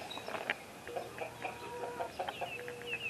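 Baby chickens in a muddy coop give soft, overlapping clucks and peeps over a constant background hiss, fairly faint and continuous.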